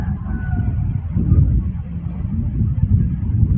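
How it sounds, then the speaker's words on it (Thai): Strong gusty wind buffeting the microphone outdoors ahead of a rainstorm, a loud continuous low roar that swells and dips in gusts throughout, with no voice over it. "ลมพัดแรงฟ้าร้องนี่เป็นไงเป็นไงผักผมจะปิวแล้ว"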